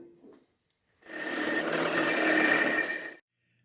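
A power grinder cuts into the metal stock for a double bit heavy thrower tomahawk ax catapult, a single loud, steady harsh whine lasting about two seconds between short quiet gaps.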